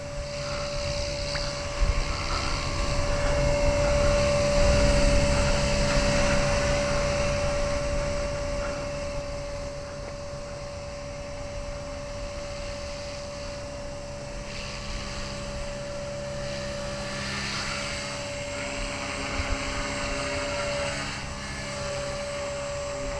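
An Align 250 RC helicopter flies in a steady whining drone with a constant rotor tone, holding moderately loud throughout with slight swells as it drifts downwind.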